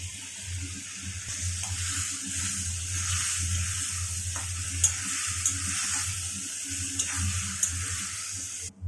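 Potatoes and beans sauté in a pan, a close, moderate sizzle with intermittent stirring clinks and scrapes and a faint watery hiss, no talking.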